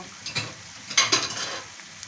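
Soft sizzling from carrot and apple pancakes frying in a pan, with a few light scrapes and taps of a utensil, quiet and close.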